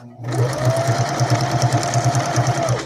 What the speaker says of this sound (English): I'm just going to stitch down the middle.